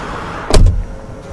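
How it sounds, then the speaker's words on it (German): Rear door of a Skoda Enyaq RS iV opening, a single short clunk of the latch with a brief mechanical release, close and fairly loud against a quiet background. "Jetzt probiere ich das gleich nur bei der hinteren Tür, wenn ich aufmache, ob es da auch funktioniert"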